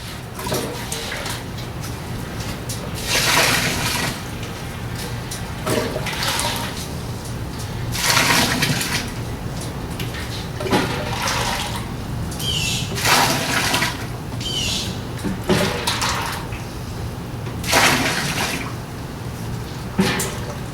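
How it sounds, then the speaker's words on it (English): Water pours and splashes in repeated bursts, roughly every couple of seconds, with clattering and scooping sounds between pours, as strike water is scooped and then dumped into a mash for a black IPA. "I'm going to scoop the first bit of water in before it's light enough for me just to dump"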